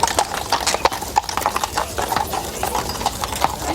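Horse hooves clip-clopping steadily as riders set out on a Boxing Day hunt, a loud, close, continuous rhythmic clatter with faint voices in the background.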